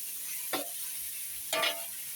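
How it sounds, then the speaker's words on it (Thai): Pork stir-frying over high heat in a hot pan for a Teochew-style Chinese herbal pork bone stew, a faint steady sizzle broken by two brief scraping stirs. "ผัดไปครับผัดด้วยไฟแรงเลยนะเพื่อนนะไอ้หมูเนี่ย"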